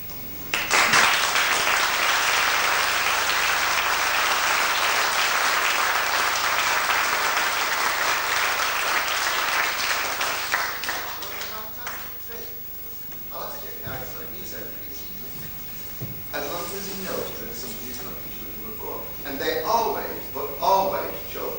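A school-hall audience at an evening magic show bursts into loud, sustained applause for about ten seconds, then it dies away into a quieter room with scattered murmurs and a voice speaking.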